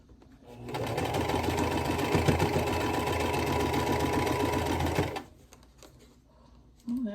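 A sewing machine slowly drives through a thick seam on a Boy Gnome quilt block from Cotton Cuts, running in one steady close whirring burst for about four and a half seconds before stopping.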